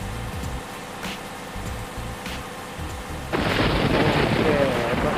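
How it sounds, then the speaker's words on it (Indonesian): Heavy rain with thunder heard while driving a bus in Pasuruan on the road from Surabaya to Banyuwangi: low rumbling booms roll through at first, then a loud, broad roar of rain and thunder swells and holds. "Oke, petirnya besar sekali ya. Ada petir."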